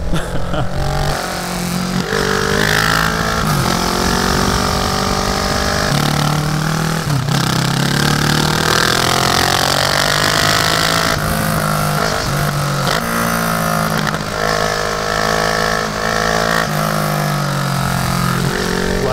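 A Kawasaki Ninja 650 motorcycle being ridden, its mid-pitched engine loud and close, rising and falling through gear changes and throttle blips with steady wind noise.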